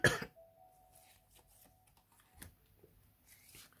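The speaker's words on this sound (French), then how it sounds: "Voilà, je tousse." A single short cough bursts out at the start, fairly close and loud, followed by quiet room tone with faint shuffling.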